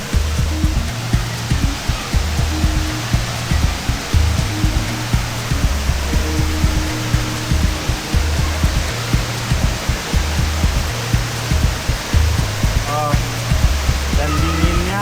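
Water rushes down the Curug Cilember waterfall at Puncak, Bogor, a loud steady roar close by, with a faint repeating tonal pattern beneath it.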